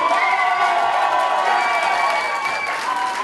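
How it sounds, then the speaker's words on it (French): A concert crowd applauds and cheers for a band at an evening music event, with dense steady clapping, whoops and shouts, loud and close, continuing without a pause. "Si vous voulez applaudir maintenant"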